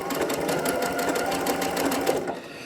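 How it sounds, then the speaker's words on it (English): A sewing machine stitching a fabric test piece for an applique, a steady close mechanical whirr with rapid needle ticking that runs continuously before easing off at the end. "now I just stitched all over the sample piece I was going to take a picture of"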